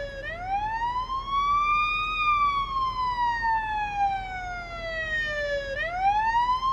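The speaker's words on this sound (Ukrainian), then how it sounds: "Сирену можна було б вимкнути." A loud emergency siren wails close by, rising and falling in long sweeping cycles as the vehicle passes, over a low traffic rumble.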